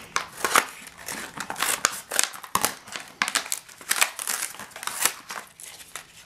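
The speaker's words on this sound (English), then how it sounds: "let's rip this baby open" Clear plastic toy packaging being ripped and crumpled open by hand, a busy run of crinkles, snaps and tearing bursts close up.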